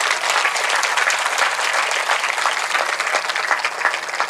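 Loud, continuous applause from a large audience at a Hindu religious katha, the Shrimad Devi Bhagwat recitation, with many people clapping steadily and no one speaking.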